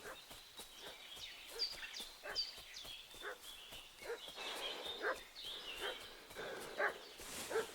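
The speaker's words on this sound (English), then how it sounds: "What's that dog making such a fuss about?" A dog barks repeatedly in the medieval video game Kingdom Come: Deliverance II, moderately distant over outdoor ambience with birds and footsteps, the barks spaced irregularly.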